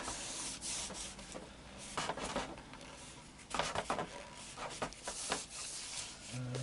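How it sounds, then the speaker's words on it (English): A cloth wipes down a freshly finished oak and sapele lap steel guitar body, several close soft rubbing swipes in uneven bursts with brief pauses. "I'm just going to wipe it down here, get rid of any pools"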